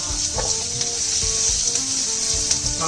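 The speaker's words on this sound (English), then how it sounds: "To this, we're going to add some sliced onions. And we're going to just saute this for a few" Sliced onions saute in a pan with turmeric powder, giving a continuous close sizzle with a few soft stirring knocks and scrapes, and no voices.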